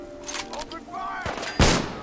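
Gunfire in the game Fallout 4: a few scattered shots amid game sounds, capped by one loud, sharp blast near the end.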